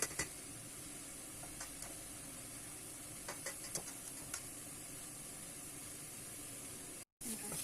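Chanterelle mushrooms stir-fry in a pan with a steady, quiet sizzling hiss and a few faint clicks as they are stirred, continuing without pause.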